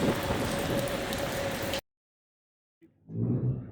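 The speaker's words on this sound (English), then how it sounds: "We are greeted at St Malo with heavy rain." Heavy rain pours down at St Malo in a dense, steady hiss, cuts out abruptly partway through, then a muffled rumbling noise rises near the end.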